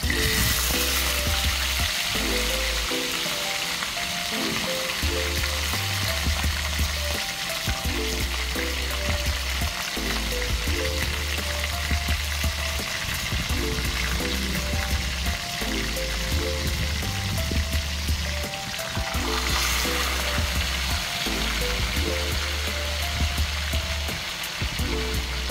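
Tilapia fish sizzles and crackles steadily in hot cooking oil, a continuous loud frying hiss with occasional stirring, no voices.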